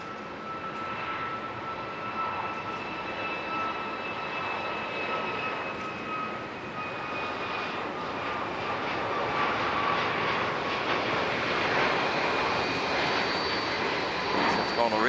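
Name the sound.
heavy jet aircraft taking off at Auckland Airport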